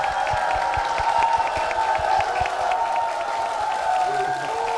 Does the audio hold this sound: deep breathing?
no